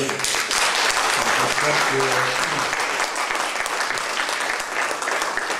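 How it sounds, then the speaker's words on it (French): Steady, dense applause from a large crowd fills the space, loud and continuous throughout with no pauses. "On peut les applaudir."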